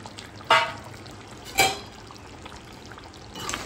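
Pre-fried kajoli fish dropping into simmering curry and being stirred, with two short splashy clatters close by about a second apart and a fainter stir at the end; no talk.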